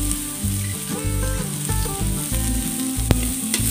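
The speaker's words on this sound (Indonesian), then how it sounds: "Tumis teman-teman sampai dia harum ya." Spice paste for black pepper crab sauce sautés in a pan, sizzling steadily and close with bursts of stirring and scraping.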